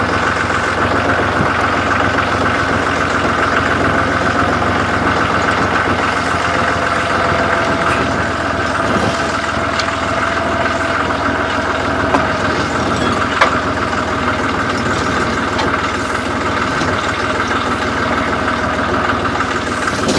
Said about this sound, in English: I'm going to take the pickup and trailer up to the field